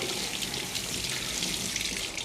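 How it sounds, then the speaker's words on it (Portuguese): Fruit rinsed under running tap water, a steady close splashing rush that continues unbroken with no talk. "Então a gente vai passar na água"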